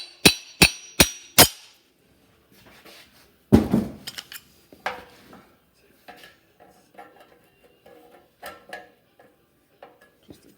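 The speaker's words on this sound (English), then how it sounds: "Sometimes you just need to give it a little tap." Metal tool tapping an exhaust pipe expander: four sharp, evenly spaced clinks at the start, then a heavier knock followed by scattered lighter taps and scraping, close by with quiet gaps between.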